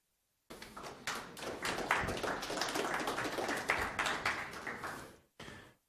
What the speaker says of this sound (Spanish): vamos a recibirlo con fuertes aplausos